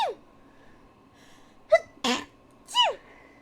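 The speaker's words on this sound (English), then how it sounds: "I did a little sneeze." A person sneezes indoors, with a few sharp close bursts after a quick inhale, each one short and separated by near silence.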